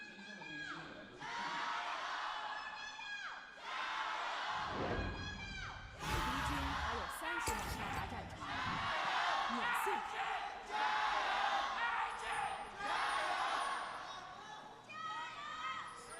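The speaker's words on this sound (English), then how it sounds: "Still cheering for their fans." Esports arena crowd at a Rogue Warriors vs Invictus Gaming LPL Spring Split third-place match, cheering and shouting in sustained loud waves over roughly sixteen seconds, with caster voices talking over the noise.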